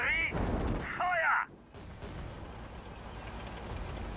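Artillery fire in the Sudden Strike 4 war strategy game: a couple of heavy booming blasts near the start followed by a rumbling, crackling barrage of distant shelling that continues at a steady level.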